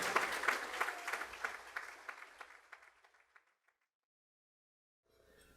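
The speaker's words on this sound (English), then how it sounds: "So can we give ourselves a round of applause as we eat together for the first time in 2 years?" An indoor audience at a senior honors event claps loudly for a few seconds. The applause fades out into near silence, and faint sound returns at the very end.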